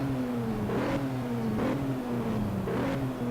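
A Toyota Supra engine in the racing game Shift drones steadily at high revs, its pitch sliding gradually down with brief surges at regular intervals and no talk over it.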